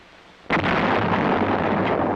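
A 105mm self-propelled howitzer fires once: a sudden loud blast after a brief quiet moment, then a heavy, sustained rumble that fills the rest of the moment.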